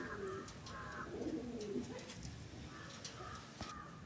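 Soft, low coos from pigeons in a coop repeat a few times over a steady background hum, with some faint rustling and light clicks near the end.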